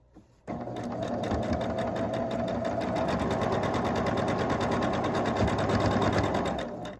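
Sewing machine stitching quilt block pieces for a block-of-the-month quilt, running steadily and close with a continuous whirring motor for about six seconds after a brief pause.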